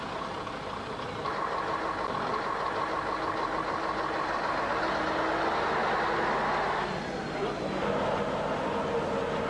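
A 1991 Scania R113 truck pulling away, its diesel engine rumbling steadily and rising slightly in pitch as it moves off, heard from close by with a faint voice present.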